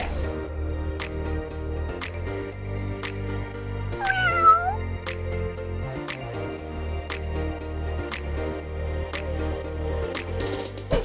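A house cat meows clearly a couple of times midway, close to the listener, over a steady low hum with sharp periodic ticking clicks throughout.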